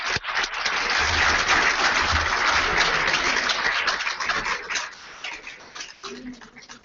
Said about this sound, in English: Huge round of applause for Amritendu